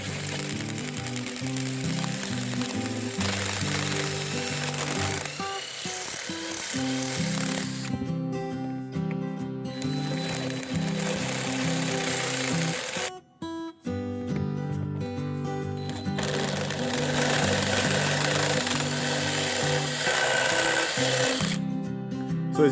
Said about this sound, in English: we're going to see how this stuff drills out